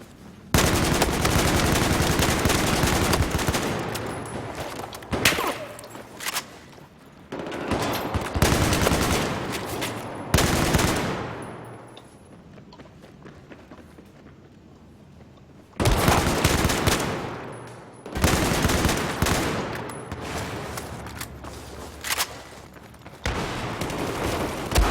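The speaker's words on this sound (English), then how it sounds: "People going around with automatic shotguns, man." Automatic shotgun fire in an online game, long loud bursts of rapid repeated blasts broken by short quieter gaps, with no talking.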